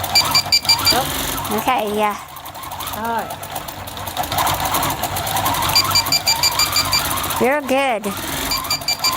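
Edge warning system beeping in bursts at an outdoor fall festival, repeated chirping tones over a steady engine-like drone, with people talking briefly nearby.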